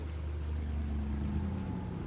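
A low, steady engine drone of many boats standing by idly on open water during the BP oil spill, constant and unbroken with a faint wash of wind.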